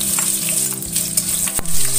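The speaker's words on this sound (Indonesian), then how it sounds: "Sini setelah minyaknya itu panas," Shallots dropped into hot oil for a stir-fry of carrot and papaya, crackling in a dense, loud, close sizzle with one sharp clack of a utensil near the end.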